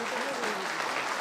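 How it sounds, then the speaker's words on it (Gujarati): An audience at a community gathering gives a brief burst of dense clapping that runs steadily throughout. "જોરદાર તાળી થઈ જાય એના માટે."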